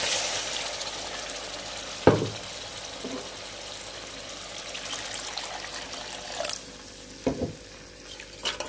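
Water poured into hot oil in a pan for a Bengali fish curry, a low sizzle and frying hiss with sharp bursts and clatters as the water hits, fading to quieter bubbling.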